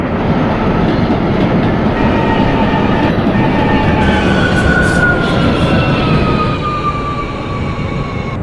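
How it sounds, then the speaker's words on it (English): A Brooklyn-bound R179 subway train runs on the A line in the OpenBVE train simulator, producing a steady, loud rumble and rhythmic rail clatter with rising and falling motor whines throughout. "This is a Brooklyn-bound A train."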